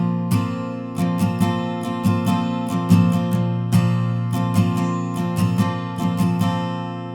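Acoustic guitar strums the pre-chorus chords of a song in a steady, bright rhythm, each downstroke crisp and close, with sustained ringing chords throughout and no voices.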